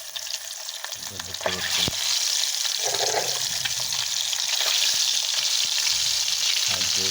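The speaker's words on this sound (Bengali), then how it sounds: "আমি অলরেডি ডিম দিয়ে দিচ্ছি চুলাতে" An egg frying on an electric induction stove, a loud, steady close-up sizzle that swells after a few clinks of a utensil; a person speaks briefly over it.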